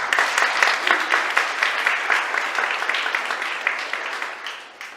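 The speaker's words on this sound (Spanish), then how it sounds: "Un fuerte aplauso para ellos." Applause from an audience at a church conference fills the room with dense, steady clapping that stays loud throughout, then tapers slightly near the end.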